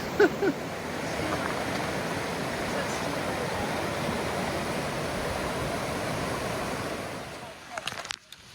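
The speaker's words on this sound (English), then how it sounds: "come across a lovely waterfall" A waterfall and stream along a New Zealand backcountry trail near Crooked Spur Hut give a steady, broad rushing roar that holds evenly throughout, with a few soft knocks at the start and end.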